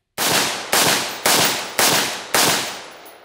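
Five loud, evenly spaced gunshots ring out close by in quick succession during a function test of a brand new Quattro (Q) magazine, each blast trailing off before the next.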